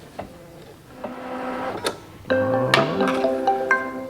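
A Luminaire XP2 embroidery machine stitches a shape on a quilt block, with rapid mechanical whirring and ticking bursts that grow louder and denser partway through, and no voices.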